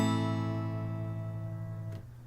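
A single chord strummed on an acoustic guitar rings out close and clear, one variation of an open chord, sustaining and slowly fading over about two seconds before being damped.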